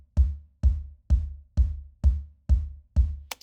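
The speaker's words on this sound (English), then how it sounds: "That's what the bass drum mic sounds like, pretty much raw by itself." Seven raw kick drum hits, captured by a single bass drum mic with no processing, thump at an even pace, each a loud close boom with a short decay, and a faint click follows at the end.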